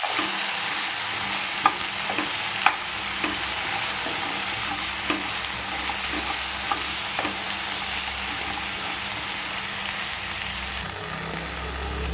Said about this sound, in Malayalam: കൂടെ നമ്മുടെ വെണ്ടയ്ക്ക ഒന്ന് വാട്ടിയെടുക്കാം കുറച്ചൊരു വെളിച്ചെണ്ണ ഒഴിച്ചു കൊടുക്കുക